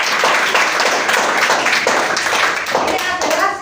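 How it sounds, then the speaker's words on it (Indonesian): Classroom students clap their hands together in a dense, loud burst that continues without a break for several seconds, close and lively. "Tepuk tangan dulu"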